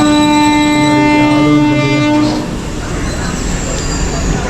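Train running from Bengaluru railway station towards Bengaluru Airport, with a loud steady tonal whine and rumble for the first half before settling into continuous rolling noise; no clear talk.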